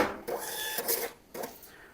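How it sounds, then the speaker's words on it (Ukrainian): Receipt printer on a point-of-sale setup printing, with the electric lock of an ASAP POS L-330S cash drawer releasing; short mechanical whirring bursts with a clack, close and moderately quiet, no talk. "зараз під час друку чека з програми обліку Торгсофт спрацює в нас принтер чеків, а також електрозамок нашої грошової скриньки"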